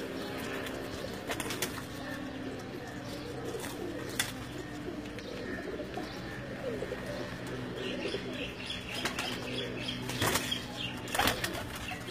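Kamagar breed chhapdar pigeons at a home loft coo softly and repeatedly, with several sharp bursts of flapping wings and faint chirps, quiet and close.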